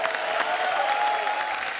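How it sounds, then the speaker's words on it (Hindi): Steady applause from a TV comedy show studio audience, a dense wash of many hands clapping at even loudness throughout, with a faint crowd murmur underneath. "एक बार जोरदार तालियां हमारे मेहमानों के लिए"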